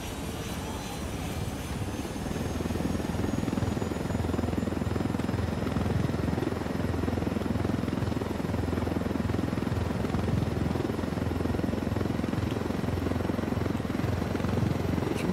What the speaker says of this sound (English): Steal ourselves another chopper.